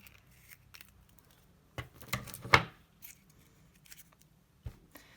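Scissors snipping a paper cone for a puppet, a few quiet crisp cuts clustered together, otherwise near silence.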